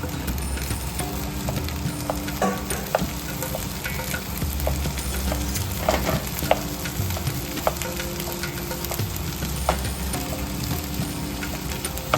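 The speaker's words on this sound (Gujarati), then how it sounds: "સારી રીતે હલાવી લો બધું" Boiled potatoes being stirred into an onion curry for dosa: a steady close sizzle with continuous scraping and stirring, light clicks of a spoon against the pan scattered throughout, no voices.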